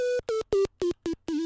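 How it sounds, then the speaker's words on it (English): Bit Crush chord preset from a Serum synth bank: six short, evenly spaced stabs of a gritty, buzzy tone with a clear low pitch and bright harmonics, dry and up front with no talking. "Then I have the Bit Crush chord from my Serum bank."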